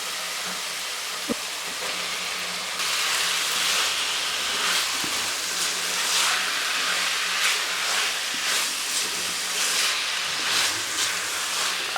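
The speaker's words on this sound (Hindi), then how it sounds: "अब मूलियाँ और आलू इन दोनों की हम भुनाई कर लेंगे" Radish and potato pieces frying in a pan, a steady dense sizzle with a brief knock near the start, the hiss brightening and pulsing slightly as the food is stirred.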